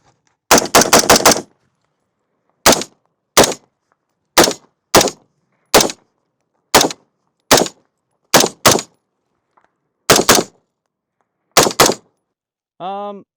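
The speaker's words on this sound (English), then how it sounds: "I can still shoot this gun pretty fast and accurately regardless of that" Loud gunshots from an H&R 653 retro carbine: an opening string of about five rapid shots, then a steady series of single cracks roughly every half second to second, ending in a brief ringing tone.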